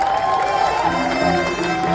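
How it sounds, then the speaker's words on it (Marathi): A crowd at an award ceremony in Devgad, Konkan claps and cheers, a continuous loud wash of applause with raised voices mixed in, close and sustained throughout. "एकदा जोरदार टाळ्या उठवले शंतनूसाठी"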